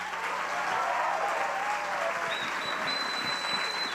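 Audience applause fills the room for Emilio at a HowToLife event in Monterrey, a steady dense clapping held at an even level throughout, with a faint high tone entering partway.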